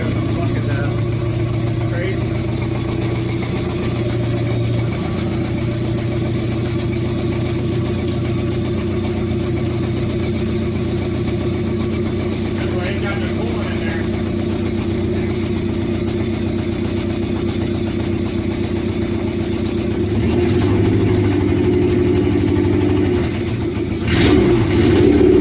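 A 1992 Honda Civic with a swapped engine idles with a steady, deep rumble for a long stretch, then revs up louder near the end, with people talking nearby.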